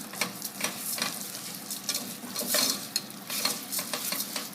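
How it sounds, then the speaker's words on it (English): Basmati rice is stirred with onions, stock cubes and oregano in a hot pan, a steady sizzle under repeated scraping strokes of a utensil, close and moderately loud, with no talking. "We're going to mix the rice with the onions, the stock cubes, the oregano"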